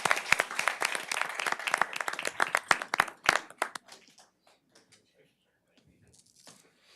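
Applause at a city council meeting for an honoree: brisk clapping from a small group for about four seconds, fading into a few scattered claps, shuffling and quiet murmurs.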